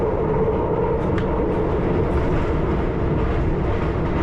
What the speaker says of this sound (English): there's a Victoria Line train